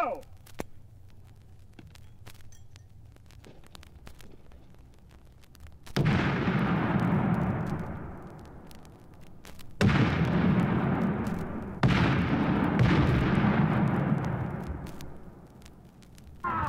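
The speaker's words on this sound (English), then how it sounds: "Prepare to throw a grenade." Three loud, booming grenade blasts go off during military combat training, each a sharp broadband burst that rings out and slowly decays, the first coming after several seconds of low rumble and scattered clicks.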